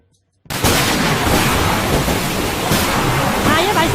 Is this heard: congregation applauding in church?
no